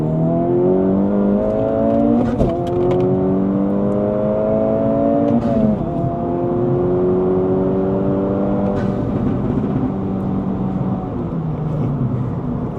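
A 2024 Acura Integra Type-S turbocharged engine pulls hard in second gear, a loud, close, continuous roar that climbs in pitch, drops back and climbs again as the revs rise and fall.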